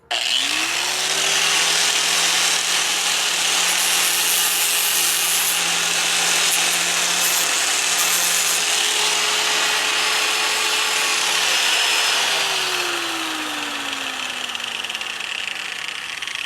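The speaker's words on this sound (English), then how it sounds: "after you've got it sharp enough on this side, give it 1 or 2 passes underneath just to get the slag off" A power grinder or file works a steel lawn tractor mower blade on an MTD Yard Machines mower, a steady continuous grinding and rasping sound that holds loud for about twelve seconds, then tails off as the tone drops.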